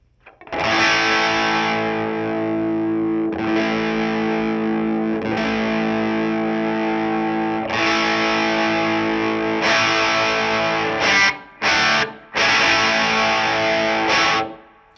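Sustained distorted chords from an Epiphone Les Paul Junior electric guitar ring out one after another as the tone control is swept, the tone shifting between darker and brighter, ending with a few short choppy stabs.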